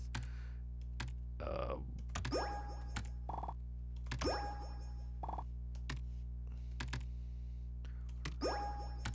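Quiet, steady clicking of a computer keyboard as letters are typed during a coding mini game, with soft keystrokes scattered under a low background hum and a few brief electronic tones.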